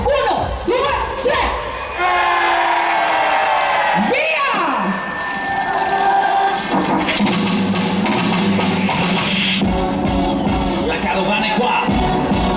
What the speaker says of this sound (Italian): Al mio 3 voglio sentire l'urlo di Jesolo per dare inizio a questo spettacolo della caravana del Giro d'Italia.